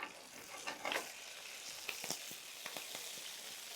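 Curry leaves crackle as they fry in hot sesame oil for a chicken fry, a busy near sizzle with sharp pops and spits scattered across the clip and no voices.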